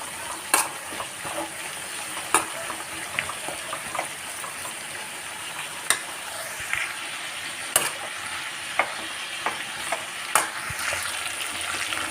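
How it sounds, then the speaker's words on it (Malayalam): Chicken sautéing with salt in a pan, with a low continuous sizzle broken by sharp periodic scrapes and knocks of the spatula every second or two, close-up and without talk. "ഇനി ഞാനിതിലേക്ക് ഇതാ കുറച്ച് ഉപ്പ് ഇട്ട് കൊടുക്കുന്നുണ്ട് കേട്ടോ ഇനി നന്നായിട്ടൊന്ന് വഴറ്റിയെടുക്കാം"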